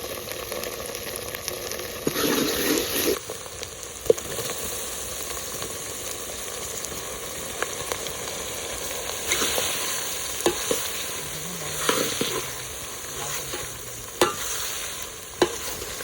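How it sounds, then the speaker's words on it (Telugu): Onions fry in a pan with ginger garlic paste and turmeric for a village-style intestine curry, sizzling steadily up close while a spoon stirs and scrapes in scattered clicks and bursts, with no talking. "ఉల్లిపాయ వేగింది ఒక టేబుల్ స్పూన్ అల్లం వెల్లుల్లి పేస్ట్ టీ స్పూన్ పసుపు వేసుకున్నాం"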